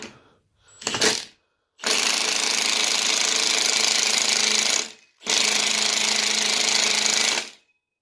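Impact gun run in reverse to loosen bolts during a Honda B16A engine teardown, a short hammering rattle followed by two long, loud, continuous buzzing bursts separated by brief pauses, close up with no talking.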